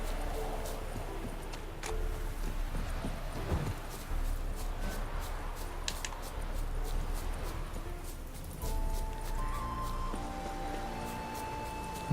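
A horse walks through marshland in The Witcher 3: Wild Hunt, its hooves clip-clopping in a steady rhythm under game ambience, with voices talking over it.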